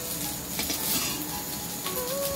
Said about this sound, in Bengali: একটু পুরা পুরা করে মাংসটা ভালো করে ভেজে নেবেন, তাহলে খেতে ভালো লাগবে।